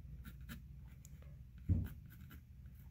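Pencil or brush sketching on a painting canvas, a quiet scratchy scraping in short strokes close by, with one firmer bump partway through and no talk.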